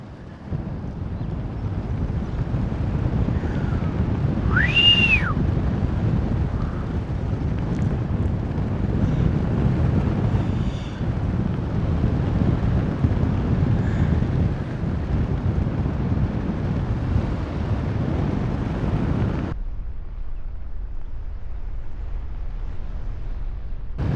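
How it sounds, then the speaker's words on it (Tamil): Strong wind buffets the microphone during paragliding over Pokhara, Nepal, in a steady, roaring rumble for about twenty seconds before cutting out, with a brief whistling tone near the start. "காற்று சவுண்டு கேட்குதா?"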